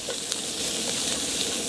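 Onions, garlic and soft butter sizzle steadily in a hot pan, a continuous close, bright frying hiss with faint crackles, no talking over it.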